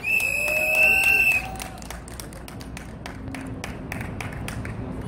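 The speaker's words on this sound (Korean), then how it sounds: "여러분 뜨거운 박수 부탁드리겠습니다." An audience claps and applauds for a speaker being introduced at a Korean veterans' association event, a steady crowd of hand claps following a brief high ringing tone.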